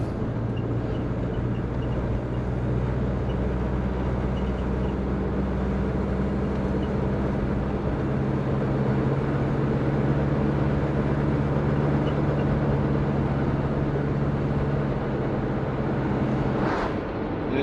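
A twin-turbo Subaru Forester engine pulls steadily in third gear, a continuous broadband drone with a low engine hum and some wind noise, close and sustained throughout with no talking.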